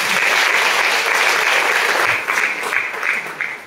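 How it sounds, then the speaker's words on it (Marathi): A loud, continuous round of applause rises from an audience at a music programme. It holds steady before tapering off slightly toward the end, with no voices over it. "एकदा टाळ्या वाजवूया"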